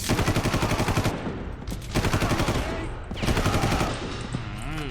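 Rapid automatic gunfire in the video game Far Cry 5 comes as loud, fast-repeating shots in three sustained bursts, separated by brief pauses and trailing into a final stretch of firing.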